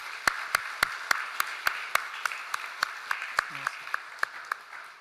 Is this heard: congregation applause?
yes